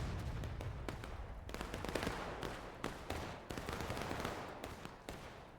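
Musket fire in a Civil War-era battle game against CSA troops crackles without pause as dense overlapping shots from many rifles, close and loud, over a steady battlefield din.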